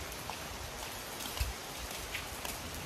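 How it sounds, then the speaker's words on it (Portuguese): Steady rain falls outdoors at a tourist spot, a continuous even hiss with a few louder drops striking nearby surfaces, no voices. "Chuva continua aqui."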